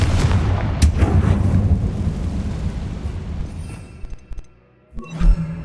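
Confringo fire spell explosions in the Hogwarts Legacy video game, a loud booming blast with a rumbling roll and crackle, then a brief quiet before another sharp hit.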